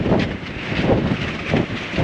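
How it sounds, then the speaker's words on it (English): Strong gusty wind on the coast buffets the microphone, a rough low rumble that swells and eases in uneven surges, with no voices. "The wind's probably like gusting up to 40, 50."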